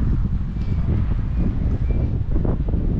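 Strong, gusty wind buffeting a microphone outdoors during a walk, a loud continuous roar with surging gusts and no voices.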